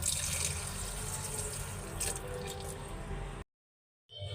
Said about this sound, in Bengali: তো এটা হালকা একটু পানি দিয়া কষাইতে দিয়ে দিব রাইস কুকারে